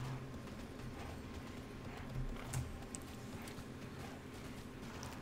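Horse hooves clip-clopping at a steady pace as a mount is ridden in the online game Tera, set under a dense, continuous wash of game ambience.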